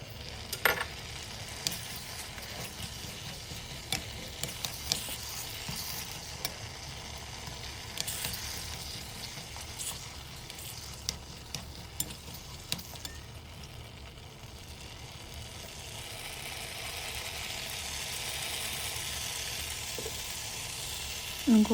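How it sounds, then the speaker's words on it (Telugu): Ripe red chillies frying in a little peanut oil, giving a steady soft sizzle with faint crackles and occasional stirring clicks throughout. "అంత పండు మిరం కొంచెం నూనెలో వేయించాలి"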